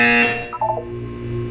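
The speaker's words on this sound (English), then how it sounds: "When you hear the buzzer, look up at the ceiling." In Portal 2, a harsh electronic buzzer tone starts loud and bright, then breaks into a few short warbling blips before settling into a lower sustained hum, with no one talking.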